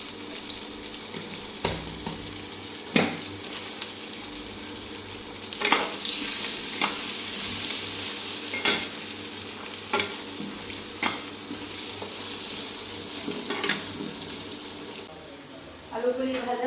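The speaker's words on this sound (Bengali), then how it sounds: "আলুগুলি ভাজা হয়ে গেছে, এখন আমি আলুগুলি তুলে নেব।" Potatoes fry in mustard oil with a steady, close sizzle, broken every second or two by sharp scraping strokes of a stirring spoon against the pan.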